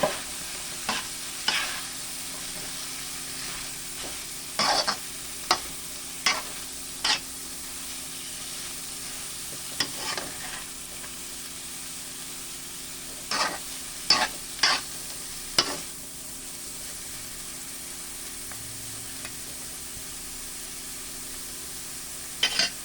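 Ampalaya (bitter gourd) being stirred with chicken for curry in a pan, with repeated scraping stir strokes in an irregular rhythm over a steady low sizzle and no talking.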